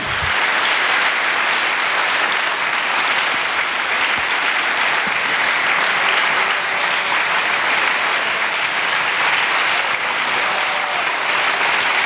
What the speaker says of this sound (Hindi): रूहुल कुद्स के लिए जोरदार तालियां, रूहुल कुद्स के लिए।